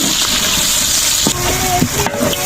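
One kilogram of onions frying in hot ghee, a loud steady sizzle and hiss throughout with a few light scrapes and knocks over it.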